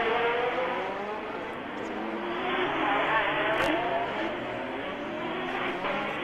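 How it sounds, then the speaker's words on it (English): Formula One cars race at the Monaco Grand Prix in Monte Carlo, a loud, continuous engine whine with shifting pitch as the cars drop down toward Mirabeau, and a brief sharp click partway through. "as Alboreto and Rosberg drop down to the Mirabeau"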